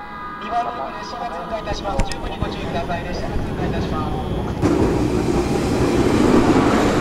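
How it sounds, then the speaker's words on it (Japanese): A limited express train rolls slowly through a temporary station with a steady rumble and rail clatter that grows louder toward the end, with a brief hiss partway through. "今度また10分ほど遅れて通過列車がやってきました"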